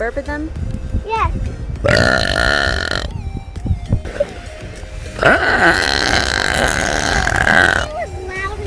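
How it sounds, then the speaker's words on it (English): Several loud, drawn-out burps on a beach in winter, some long and gurgling, with children talking and reacting between them. "Will we burp at them? Yes."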